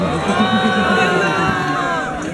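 Crowd at a samba percussion battle cheering and shouting loudly for an applause meter, a steady roar of voices with some babble running throughout.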